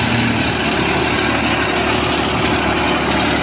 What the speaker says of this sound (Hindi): न्यू हॉलैंड 3510 35 HP का ट्रैक्टर है